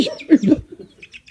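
A chicken gives a quick pair of close clucks, then a few faint chirps trail off in a brief moment.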